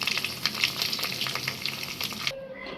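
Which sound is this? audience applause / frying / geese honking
frying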